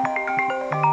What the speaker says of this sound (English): And my phone's ringing, but I think I'll let that go.